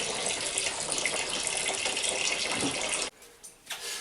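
Homemade hard apple cider runs through a siphon into a fermenting vessel, giving a continuous close splashing, gushing pour for about three seconds that then stops abruptly, leaving faint trickles.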